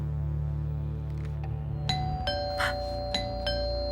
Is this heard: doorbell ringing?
yes